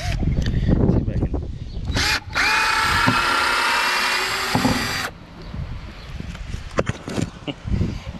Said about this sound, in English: to drill out the powder, the hardened powder stuff in this one